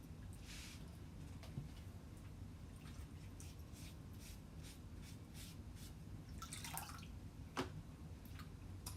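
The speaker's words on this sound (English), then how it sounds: "Let me wash this off." Running water from a tap rinses gold residue and fuzz off a Chalk Couture chalk transfer, a steady trickling wash with a few sharper splashes and drips, close and moderately loud.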